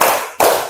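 Two short bursts of a group clapping in unison during a training session, a brief gap between them, close and loud.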